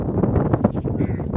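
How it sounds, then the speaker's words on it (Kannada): Strong wind blows outdoors during a visit to Mantralayam. It makes a steady, gusty, low rumble that buffets the microphone, with no clear voices. "ಗಾಳಿ, ಸಕ್ಕದ ಗಾಳಿ."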